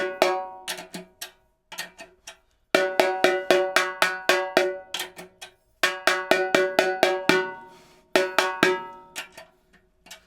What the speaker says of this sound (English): that's pretty much how I tune a snare drum